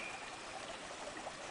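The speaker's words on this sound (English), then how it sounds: "We come up to this nice log with a little waterfall back there" A small waterfall spilling over near a log on a creek, a steady faint rush and trickle of water running throughout without speech.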